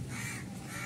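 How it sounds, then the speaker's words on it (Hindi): A crow gives a harsh caw, a single sustained call heard up close and fairly loud over a steady background. "अभी काऊ काऊ करता ही रहेगा"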